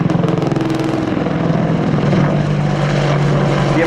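An Apache attack helicopter flies a display at the Fairford airshow, giving a loud, continuous rotor and engine roar with a steady low throb that stays close and unbroken throughout.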